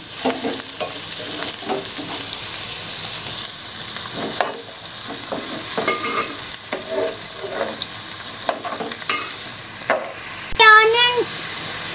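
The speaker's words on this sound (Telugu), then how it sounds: "ఆనియన్స్ వేగుతున్నాయి కదా ఫ్రెండ్స్." Onions and green chillies frying in oil in a pan for a tamarind-leaf dried fish curry, a steady close sizzle with scraping stirs and clinks of a spoon throughout, faint talk at moments.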